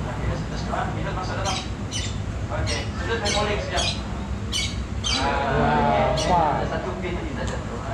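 At a nature park, a bird squawks repeatedly in harsh, loud bursts close by, heard under and between people talking.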